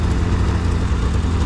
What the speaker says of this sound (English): What a stout little engine.